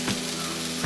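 Cabbage, carrot and beans sizzle in a hot pan, a brief steady hiss of frying with no talk.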